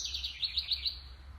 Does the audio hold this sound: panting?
no